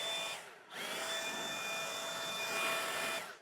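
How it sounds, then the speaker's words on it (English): A leaf blower blasts air into the cabin air filter housing of a BMW 3 Series E90/E92, a steady loud whooshing roar that dips briefly near the start, then holds close and constant before cutting off. "I'm gonna grab my leaf blower"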